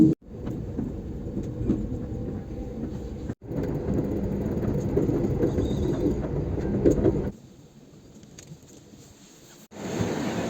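A train in Germany rumbles along the rails with a steady clatter inside the carriage, briefly quieting before the rolling noise returns.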